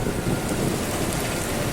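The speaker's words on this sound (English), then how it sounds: "I wake to a downpour" Steady, dense hiss of heavy rain pouring down, a continuous broadband wash with no breaks and no voices.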